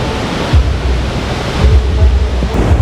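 Waterfalls at Tamasopo in the Huasteca Potosina, Mexico: a steady, loud, broadband rush of falling water with a constant roar and low rumbling surges, no voices.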